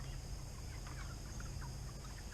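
Cornish Cross broiler chickens at six weeks old clucking softly in an outdoor pen, faint scattered clucks over a steady low hum, with no talk.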